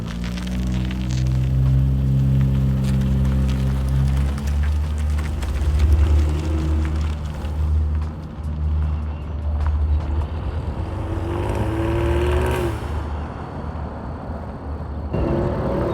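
An old $800 car being driven, its engine a steady low rumble throughout, rising and falling slightly as it rolls, with a brief whine toward the end and no talking.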